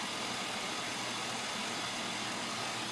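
A truck engine idles in a steady, even drone with a low rumble, running alone without any voices over it.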